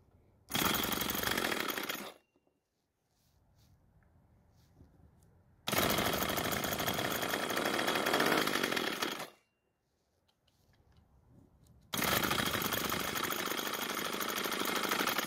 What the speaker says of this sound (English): And since this engine has the jump start feature, I'm going to use it to help try and get it started.